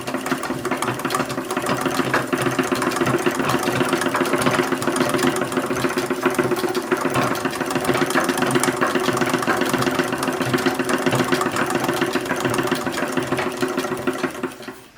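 Original 1876 sewing machine stitching seams on a toddler's dress, a steady close mechanical whirr with fast rhythmic needle clatter running continuously before slowing to a stop.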